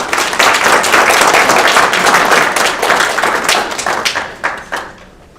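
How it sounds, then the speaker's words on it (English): An audience applauds a student award winner at a school presentation, loud dense clapping that holds steady and then thins into a few scattered claps before fading out. "how about another round of applause for Pablo?"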